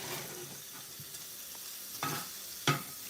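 BBQ shrimp fry in a pan with a steady close sizzle, punctuated by a few sharp spatula scrapes and presses against the pan, and no voices.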